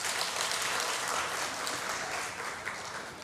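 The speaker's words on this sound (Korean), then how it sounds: "박수하겠습니다" Church congregation applauding steadily, a dense continuous wash of many hands clapping at even loudness, slightly tapering toward the end with no voices over it.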